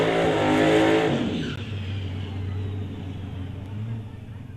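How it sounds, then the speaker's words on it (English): A drag racing car with a 554 engine spinning its tires at the launch in an Outlaw 275 event, a loud roaring rise that fades into a lower steady drone as it pulls away. "As Steve Skokin again blowing the tires off at the hit with that 554 with a 9 for the racer out of Surrey"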